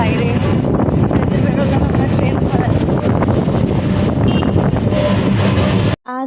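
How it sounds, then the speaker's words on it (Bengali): Strong wind roars and buffets the microphone continuously, a loud, steady rumbling gust noise that cuts off abruptly at the end. "আজ বাইরে বেশ হাওয়া আছে আজ"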